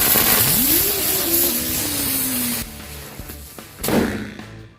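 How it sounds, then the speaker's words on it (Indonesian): A red ground-blown firecracker goes off outdoors: a rising whistling screech that slowly drops in pitch, then fades into crackling bursts and a final sharper pop. "selanjutnya ini kita nyalakan mercon merah ground blown"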